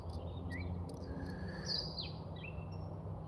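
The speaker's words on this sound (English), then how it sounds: "It's a weird sounding bird." An odd-sounding bird outdoors gives a few thin, high chirps and a rising-then-falling whistled call over a constant low rumble of wind or traffic, with no talking.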